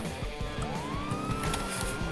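A police car siren in the video game GTA Online rises in a long steady wail over a continuous rumble of engine and road noise, fairly loud with no talking.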